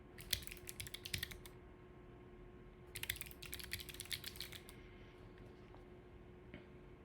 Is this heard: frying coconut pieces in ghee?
no